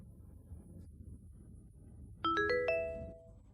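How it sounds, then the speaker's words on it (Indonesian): An incoming-call ringtone sounds from a phone as a brief, bright run of melodic chime notes that rings out over quiet low room noise. "Telepon dari Kinasi."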